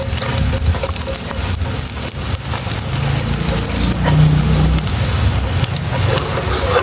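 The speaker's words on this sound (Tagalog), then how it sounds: "Gisa na natin yung bawang." Chopped garlic sautés in a pan for buttered chicken and stir-fried vegetables, a steady loud sizzle with occasional stirring scrapes, no voices.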